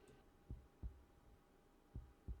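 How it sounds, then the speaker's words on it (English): Heartbeat sound effect in an audio drama, a soft, low double-thump beating twice, pausing, then twice again, faint and muffled over a quiet hum. "You can hear the heartbeat."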